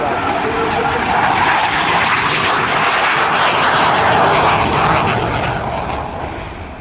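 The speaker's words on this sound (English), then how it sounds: "Now the Hornet is extending away to set up for the high-speed pass." An F/A-18C Hornet fighter jet roars at an airshow as it extends away, a loud broad engine rush that swells and then fades slightly toward the end.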